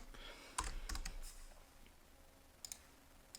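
Quiet, close computer keyboard typing while entering text in Adobe Illustrator: a short cluster of key clicks, then a couple of isolated taps after a pause.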